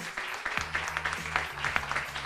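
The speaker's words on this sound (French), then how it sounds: "On applaudit bien fort." Audience at a French elevator-pitch talent contest applauds in a short, dense burst of clapping, with music-like tones running underneath.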